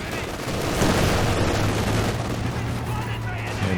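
Rifle fire in Company of Heroes 2 rattling in overlapping bursts through a dense, steady battle din, with a low engine hum droning beneath and speech mixed in.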